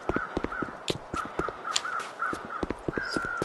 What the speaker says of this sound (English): Are those birds up in the air?